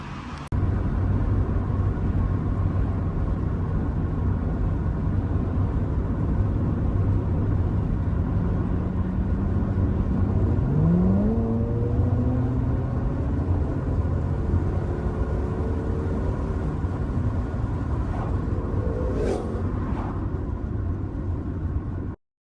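A Nissan Skyline / Infiniti fitted with a Jack Speed K4 exhaust drives along, a low steady engine rumble with one rising rev around the middle, continuous and close for the whole stretch.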